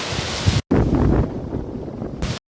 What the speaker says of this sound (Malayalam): തെങ്ങൊക്കെ വളരെ കൊടുങ്കാറ്റ് പോലെ വീശാണ്